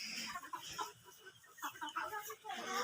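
Faint clucking from a few young Fayoumi hens on a farm, soft and scattered, with quiet background noise and no clear talk.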